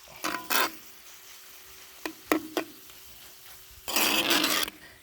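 Smoked sloppy joe meat is stirred in a hot pan, a few short scraping strokes and clatters over a faint sizzle, ending in a longer burst of stirring, close and with no talk.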